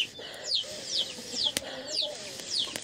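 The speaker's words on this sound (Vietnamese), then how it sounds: "Giờ này gà nó vô nhà nó kêu quá trời cả nhà, đòi ăn á." Chickens cluck repeatedly inside a rural house, a series of rising squawking calls close by, with a soft voice briefly in the background.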